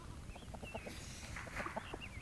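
Chickens cluck softly in quick irregular bursts, fairly faint, with light chirps above them.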